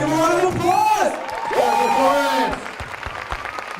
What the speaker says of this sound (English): Yeah, let's give them an applause!